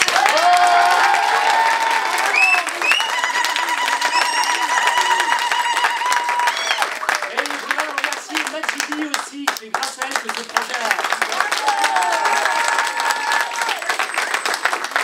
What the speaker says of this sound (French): Je voudrais quand même qu'on l'applaudisse très très fort.